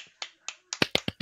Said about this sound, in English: Everyone give him a little bit of a clap.